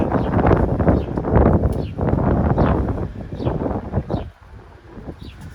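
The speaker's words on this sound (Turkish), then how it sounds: "Bildiğiniz fırtına var." Loud, gusting wind roars and buffets the microphone continuously, surging in waves before easing slightly near the end.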